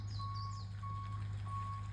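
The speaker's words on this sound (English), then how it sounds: "This guy's reversing the whole thing down the road" Three evenly spaced reversing beeps from a tow truck backing down a road, heard at a moderate distance over a steady low engine hum and faint birdsong.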